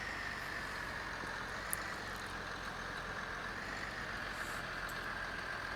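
A small tractor engine in the farming game Farming Simulator 15, a steady low mechanical hum with a constant high tone, faint and unchanging, with no voices.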